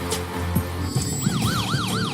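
A wailing emergency siren, ambulance or police style, rises and falls in steady repeated sweeps over low rumbling traffic and crowd noise during a college basketball tournament broadcast.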